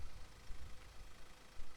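A 2017 Ford Ranger's ZSD 422 2.2-litre turbocharged inline-four diesel idles with a faint, low, pulsing rumble during a brief, quiet stretch.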